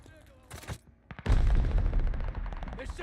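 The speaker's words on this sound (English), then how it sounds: "They're sending mortar shells." Mortar shells fired in a video game: a few sharp cracks, then a loud, sustained barrage of booming blasts that rumbles on with a voice in the mix.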